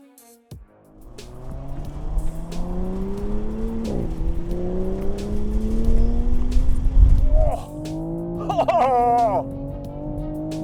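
A 2020 Toyota GR Supra roars and revs hard through the gears on a race track, pitch climbing then dropping at each shift, loud and close, with a brief tire squeal.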